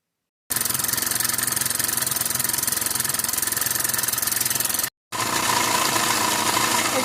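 A model live steam locomotive motor for a garden railway running on compressed air, giving a steady, loud, fast chuffing and mechanical whir that breaks off briefly and then resumes, with no talking.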